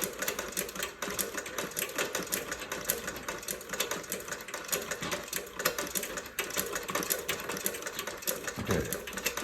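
Singer 29-4 boot patcher sewing machine stitching at a steady pace, a close, loud rhythmic clatter of needle strokes running continuously for about nine seconds.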